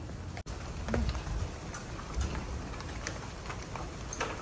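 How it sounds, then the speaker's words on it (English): Rain begins to fall outdoors, a steady, dense hiss of drops with faint patters throughout and no voices. "It's starting to rain."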